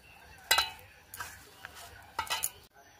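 Raw banana mash being worked together with chili powder, turmeric and salt, giving a few scattered clinks and soft mixing scrapes against a bowl, close and fairly quiet with gaps between.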